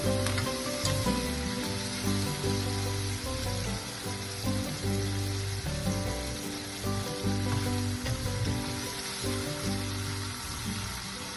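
Shrimp fry in a pan with a loud, continuous close sizzle and crackle, broken now and then by the scrape of stirring, with no one talking.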